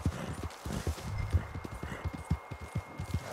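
Horse hooves clip-clop in a steady, brisk rhythm across the ground in Red Dead Redemption 2, close and fairly quiet, with a low rumbling background underneath.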